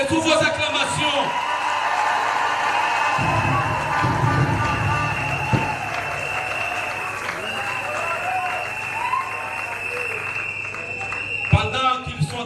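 A hall audience applauds and cheers steadily for several seconds, a dense clapping wash with shouts and whoops, under a speaker's voice and crowd chatter.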